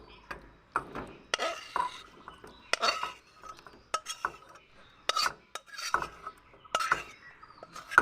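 Dried fish and tomato gravy being poured out of a pan into a dish, heard as close, intermittent metallic scrapes and clinks of a spoon against cookware, separated by short quiet gaps.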